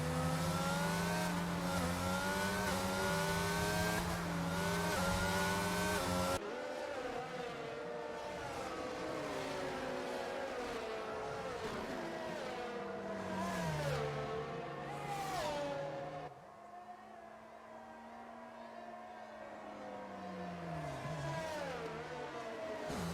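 Race car engines in a racing video game hum and whine as the cars circle slowly behind the safety car on the Japan circuit, their pitch rising and falling through gear changes in a steady, moderately loud drone with no talking.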